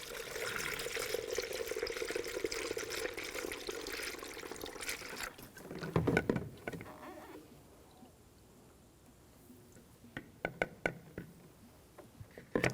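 Coolant pours through a funnel into the reservoir of a 2011-2018 Volkswagen Jetta 2.0L L4, trickling steadily at first, then thinning to faint dribbles and small clinks.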